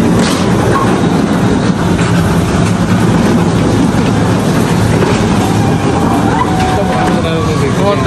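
Amusement park ride train running, a loud, continuous rumble with rattling and clatter that holds steady throughout, with people talking over it.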